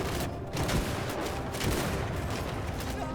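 Gunner volley fire in the Bannerlord Shokuho mod, a battle with dense overlapping gunfire cracks and booming shots over a constant roar of combat, loud and continuous throughout.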